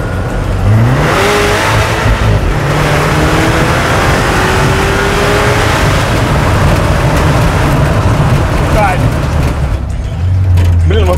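A ZIL truck with a 600 hp engine accelerates hard to overtake in traffic. The loud, close engine roar climbs in pitch through the gears and keeps going the whole time, while people talk over it inside the cab.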